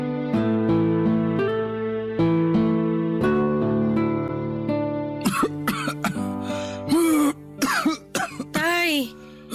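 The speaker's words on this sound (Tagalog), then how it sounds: "Kanina pa talaga ako inaatake ng ubo." Several harsh, close coughs break out in quick bursts over the last few seconds, following a steady sustained tone.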